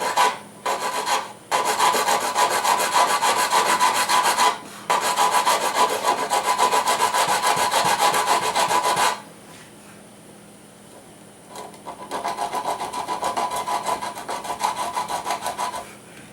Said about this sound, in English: I just roughed it off with the sandpaper